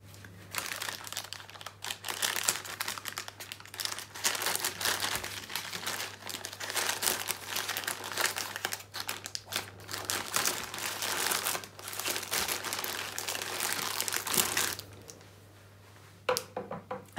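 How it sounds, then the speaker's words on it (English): Parcel packaging being opened with scissors, a steady run of close crinkling, crumpling and tearing plastic and paper that continues for most of the stretch before briefly quieting near the end. "Just get my scissors to open it up."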